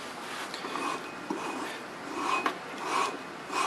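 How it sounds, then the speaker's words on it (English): A flywheel for a Tillotson 212cc engine on a Hot Tilly 20HP build is lapped onto the crankshaft taper with lapping compound, producing close, gritty rasping and rubbing strokes that rise and fall as it is turned back and forth, with no talking. "you run the lapping compound on the crank to the flywheel, spin the flywheel a few times"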